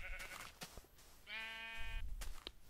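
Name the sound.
sheep bleating in Minecraft video game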